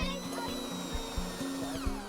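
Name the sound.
drilling a hole in wooden reindeer for antlers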